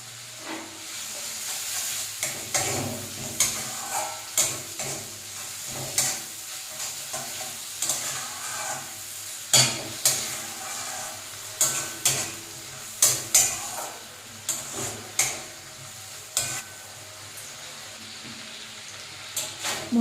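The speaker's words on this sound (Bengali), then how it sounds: "মশলা কষানো হয়ে গেছে" Onion, tomato, chilli and turmeric masala being stirred and fried in oil in a pan, a continuous sizzle broken by repeated rhythmic scrapes and clinks of the spatula against the pan.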